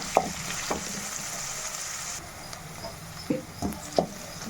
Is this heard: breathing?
no